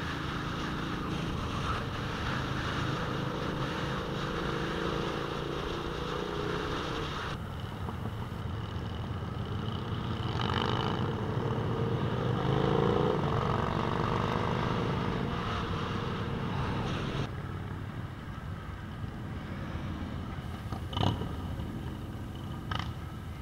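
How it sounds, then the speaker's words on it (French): A big group ride of about 250 modified motorcycles makes a continuous loud engine roar mixed with wind buffeting. The roar swells and fades as bikes pass over a long stretch. "avec le bruit de motos modifiées dans les oreilles"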